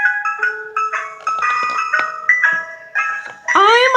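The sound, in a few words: ice cream truck playing its jingly tune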